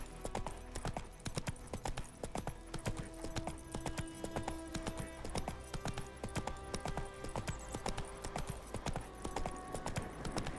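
Roach, Geralt's horse in The Witcher 3: Wild Hunt, galloping with a fast, steady clip-clop of hooves on hard ground, continuous and up close with a low game ambience underneath.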